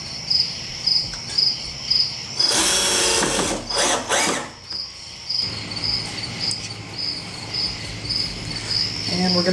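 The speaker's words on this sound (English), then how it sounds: "we're going to sink these screws" A drill drives screws into a wooden sandbox lid with a folding bench, outdoors, in one loud buzzing burst of about two seconds, with crickets chirping steadily in the background.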